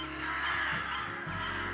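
Crows cawing in trees at sunset as they roost, a brief burst of harsh calls over steady low background noise.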